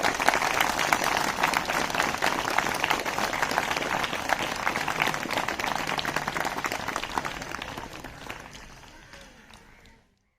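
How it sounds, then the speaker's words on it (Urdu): An audience at a high school gathering claps steadily, dense and continuous, before the applause thins and dies away into silence at the end. "ایک مرتبہ تالیاں سب کے لیے ماریں."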